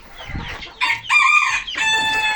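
A backyard rooster crows loudly and close in two long, ringing calls, with chickens clucking around it in a coop and no talk.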